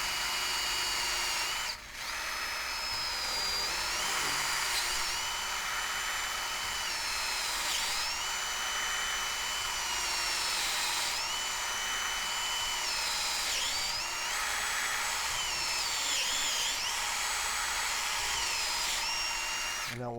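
A drill bit bores into a metal part from a Marlin Model 30G pump rifle, whining loudly and continuously at close range with the pitch sagging and recovering under load, briefly dipping near the start.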